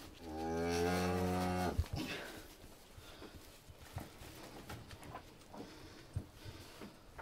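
Cow at a cattle farm moos once, a loud, long, harmonic bellow lasting over a second, followed by quieter shuffling, thumps and hoof sounds of livestock nearby.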